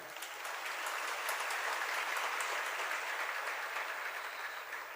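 Sustained audience applause at a Jain religious discourse by Acharya Vidyasagar Ji Maharaj in Shirpur, a dense, steady clapping wash lasting the whole stretch with no talk over it.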